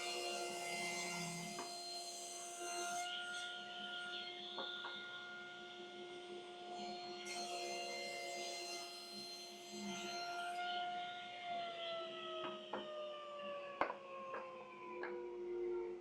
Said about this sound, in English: let me just show you how you can just do the same thing on a table saw